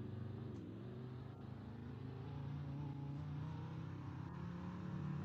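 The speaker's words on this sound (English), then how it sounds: "just do a little bit of some e-brake drifting" A fire truck engine in the Roblox game Greenville drones and revs steadily during e-brake drifting, a faint, continuous vehicle hum with no talking.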